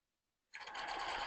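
A sewing machine starts up after a brief silence and runs steadily, close and clear, stitching the edge of a men's ballet tunic where brocade is joined to mesh.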